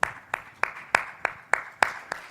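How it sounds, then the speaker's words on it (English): An audience group claps in a steady rhythm of sharp, evenly spaced hand claps, about eight in a row, fairly close and alone without talk. "I'm going to clap in 3s this side."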